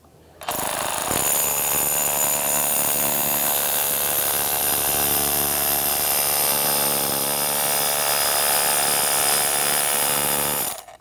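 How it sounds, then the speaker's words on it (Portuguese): A power drill set to hammer mode works during an electrical grounding installation, giving a loud, continuous, rattling whine up close that starts abruptly and holds for about ten seconds before cutting off. "Boto na função martelete e faço isso aqui."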